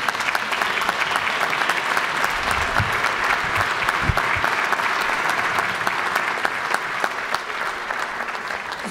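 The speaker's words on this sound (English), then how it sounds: "Will y'all give them a round of applause" A full round of applause fills the Georgia House chamber during a legislative session, steady and dense for the whole stretch, with no talk over it.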